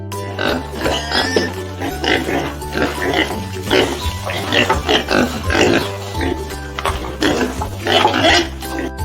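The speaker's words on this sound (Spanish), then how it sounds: "Cerdo." A pig grunts and oinks in rapid repeated snorts, close and fairly loud, with brief speech-like sounds mixed in.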